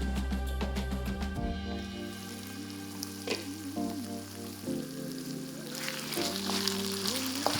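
Fatty lamb with onions and red table wine sizzles steadily in a pan on medium heat, a continuous frying hiss with occasional stirring scrapes over a light musical backdrop.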